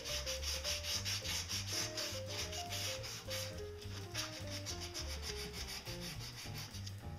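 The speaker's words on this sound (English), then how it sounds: "I usually just go ahead with the 220 and sand down all the roundover to make it a good smooth cut" A wooden roundover edge being hand sanded with 220-grit sandpaper, a soft continuous rubbing rasp in steady back-and-forth strokes, close and quiet with no voices, under faint background music.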